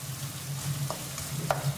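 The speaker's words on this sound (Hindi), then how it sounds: "उसके बाद इसमें ऐड करेंगे मक्खन 1 खाने का चम्मच और इसको अच्छे से मिक्स कर लेंगे।" Melted sugar and butter being stirred into a chikki caramel over a steady sizzle, with a few light spoon scrapes near the end and no talking.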